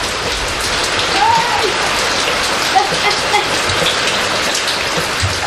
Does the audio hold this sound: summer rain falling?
yes